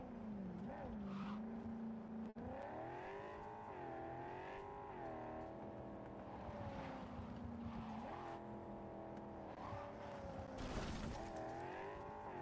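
A car driven in the Cyberpunk 2077 video game, its engine revving and shifting pitch up and down, with occasional tire squeal, at a fairly quiet level.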